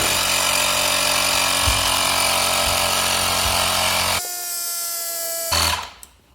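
A loud electric air compressor or pump drones steadily while refilling an inner tube in a Dualtron Spider electric scooter tire, then changes pitch and stops near the end.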